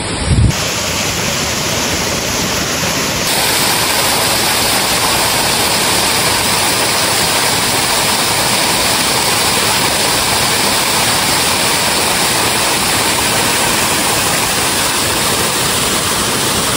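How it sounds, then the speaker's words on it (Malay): Waterfall at Cherandong dam near Kuala Kubu Bharu, a loud, dense and continuous roar of rushing water, close and unbroken throughout. "Ni tempat air terjun pecek baru."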